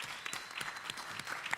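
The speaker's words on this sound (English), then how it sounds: "Yeah, we can clap, yeah." Audience applause at a Juneteenth gathering as an architect is introduced, heard as a short, sparse patter of claps at moderate volume with a few louder individual claps.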